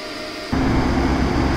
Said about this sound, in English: So now this pulsed back filter is under operation. It is sucking the dust from various points from inside the factory.